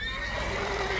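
A horse neighs in The Witcher 3, a loud whinny filling the brief moment over steady game background sound.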